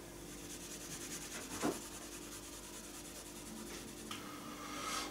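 Steady rubbing strokes of a coin-made badge being polished by hand, a soft continuous friction hiss with a brief louder scrape partway through, close and fairly quiet with no talking.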